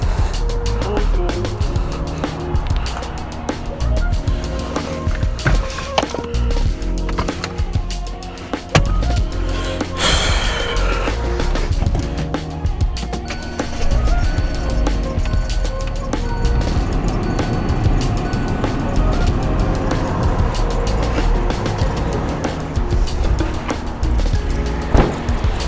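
A 2017 Hyundai Elantra with its radiator cap off starts and idles, a steady engine drone with a brief burst near the start-up point, running continuously under light background noise.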